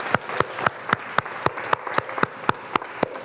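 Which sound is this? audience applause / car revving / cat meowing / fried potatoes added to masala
audience applause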